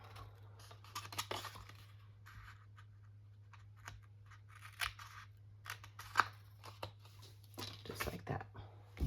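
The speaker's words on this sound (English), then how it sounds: "I just find it's easier just to do it with your detail scissors." Detail scissors trim paper for a stamped card project, producing soft, close snips and rustling scattered through a quiet room with a faint steady hum underneath.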